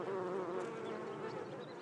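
Bees buzz close by in the hot Las Bardenas desert, a steady, sustained droning hum with no break and no voices.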